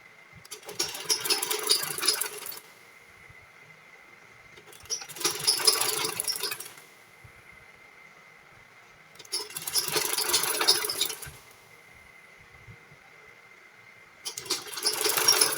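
A sewing machine stitches a pleat in fabric for a round gele base, running in four short bursts of rapid buzzing stitches separated by quiet pauses, close and clear with no talking.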